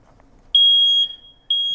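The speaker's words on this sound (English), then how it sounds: "we're going to test your detector the first of the month like we do every month" A smoke detector pressed for its monthly button test gives two loud, piercing electronic alarm tones, the first held about half a second, then a brief gap before the second starts, alone in a quiet room.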